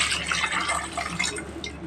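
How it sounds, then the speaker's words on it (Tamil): Water poured onto raw chicken in a pot before boiling it for an Andhra-style chicken gravy, a close, brief splashing trickle with no talk. "முதல்ல சிக்கனில் தண்ணி ஊற்றி வேக வச்சிடணும்."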